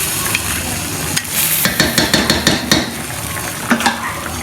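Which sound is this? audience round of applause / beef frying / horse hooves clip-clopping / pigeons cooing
beef frying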